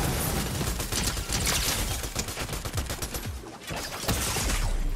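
Rapid, loud gunfire from a Fortnite match, including sniper rifle shots, crackles in dense overlapping bursts for several seconds with no talking.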